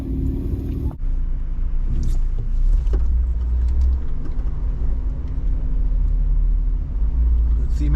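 Jeeps drive over avalanche snow, with a steady low engine rumble throughout, a brief dip near the start and continuous loud road-like drone; people talk over it.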